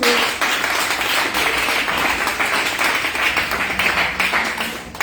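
A church congregation claps and applauds in praise of Jesus, a dense, loud burst of many hands ringing out together for several seconds, with scattered voices mixed in.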